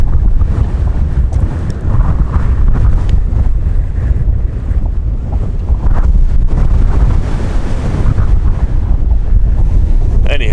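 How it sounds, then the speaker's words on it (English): Powerful wind gusts of 40 to 50 mph batter an exposed Wyoming dinosaur excavation site, a loud, continuous roaring buffet across the microphone that barely lets up, with a voice faintly underneath. "we're probably getting like 40, 50 mile an hour gusts right now"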